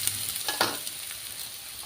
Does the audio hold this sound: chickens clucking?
no